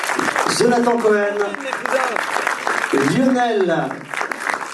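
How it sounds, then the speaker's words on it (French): At a French film premiere, an audience applauds the film's crew with a steady wash of clapping beneath an announcer who speaks over it into a microphone. "je vous demande de les applaudir"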